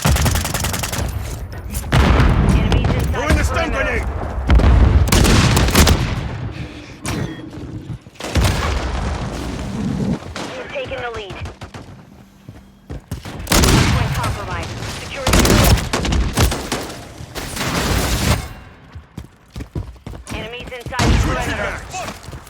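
Akimbo shotguns firing in a Modern Warfare 3 Hardpoint match, with dense volleys of loud blasts and booms in irregular clusters amid battle noise and game radio voices.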